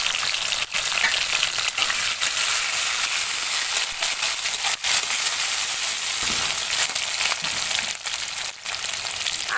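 Panch phoron spices, chopped tomato and slit green chillies sizzle loudly in hot oil, a dense, steady crackling spatter that fills the whole stretch with a few sharper pops along the way.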